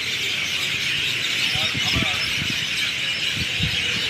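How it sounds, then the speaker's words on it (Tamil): Constant high-pitched chirping from a large flock of birds near Erode railway station in the evening, around 6 pm, fills the background, while someone talks over it in short bursts. "இந்த அற்புதமான பறவைகளினுடைய சத்தம், கீச்சிடும் குரல்"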